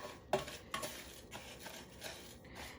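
A spoon pushes melted butter around a baking pan, making quiet, intermittent clinks and scrapes of metal on metal, a few sharper taps among soft smearing sounds.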